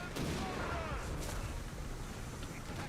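Flak gun firing with burning munitions during a 4v4 Company of Heroes 3 battle, heard as a dense, continuous rumble of overlapping bursts and explosions that fills the whole stretch at a loud, steady level.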